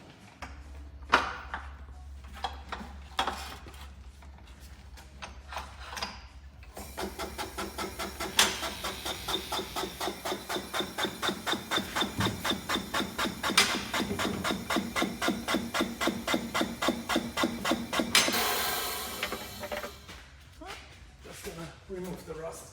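Rust being removed from a suspension bolt during a Tesla Model 3 shock upgrade, a scattering of scrapes and taps followed by a long run of fast, regular, loud rhythmic grinding, fading to scattered knocks at the end.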